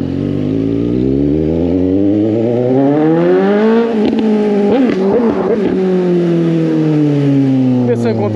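Suzuki GSX 750 motorcycle with a straight-pipe exhaust shifting gears without the clutch, a loud close engine whose rising pitch breaks off at about four seconds into sharp choppy shift blips, then a steadier drone.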